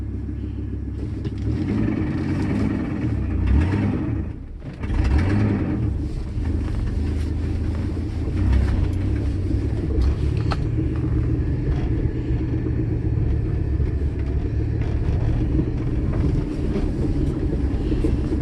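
A manual-transmission car engine rumbles steadily and close by, with a brief lift in revs and a short dip midway, no talk over it.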